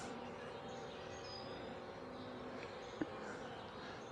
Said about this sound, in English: these bees are not impressed